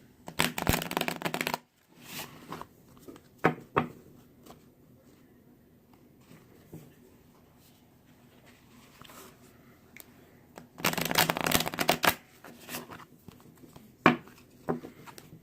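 Rapid riffling and flapping of tarot cards being shuffled in two loud bursts, with softer taps and handling in the quiet stretch between.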